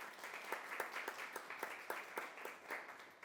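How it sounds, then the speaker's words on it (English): An audience at a university Gavel Club speech competition applauds a contestant, with a quiet, fairly sparse patter of individual claps standing out at a steady rhythm and no talk. "Please give her another round of applause."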